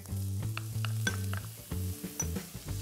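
Onion sizzles in a thin layer of hot olive oil in a pot, a bright crackling fry heard up close and alone, with occasional clinks of a utensil stirring against the pot.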